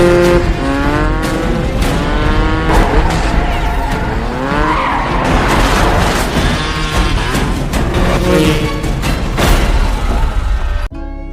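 A film chase between a motorcycle and a car, with engines roaring loudly past, tyres squealing and skidding, and sharp crashes of impact near the end, all without speech.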